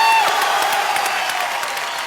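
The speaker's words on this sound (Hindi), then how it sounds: "तो जोरदार तालियों से बताएं" Studio audience at a television comedy show breaks into loud applause with some cheering, a dense continuous clapping that fades slightly toward the end.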